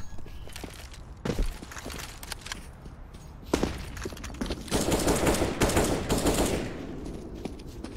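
Pistol gunfire in Counter-Strike on the Overpass map during a StarSeries i-League match, scattered sharp shots and bursts with footsteps between them, busiest toward the middle of the stretch.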